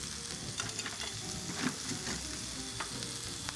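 Mushrooms fry in a hot pan with a dense, continuous sizzle and crackle. Stirring scrapes and taps sound throughout, close and fairly loud, with no talking.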